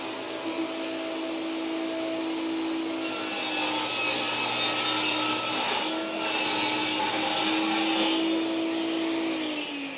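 A table saw rips through a wood board in a workshop, a steady motor whine that swells into a loud, continuous cutting roar for several seconds before settling back to idle.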